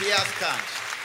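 A church congregation claps together during a worship service, a dense, steady wash of applause filling the whole short moment, with a voice talking over it.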